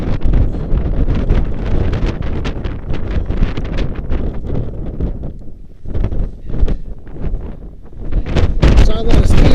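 Strong wind buffets a microphone during a storm high on Mount Hood, loud roaring gusts rising and falling with heavy low rumble, and a voice faintly mixed in.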